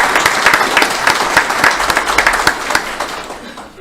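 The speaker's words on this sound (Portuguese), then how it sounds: "eu gostaria de pedir uma salva de palmas para o nosso DIGI" An audience applauds the DIGI team at a Spiritist doctrinal talk, steady dense clapping from many hands, fairly loud and close, trailing off near the end.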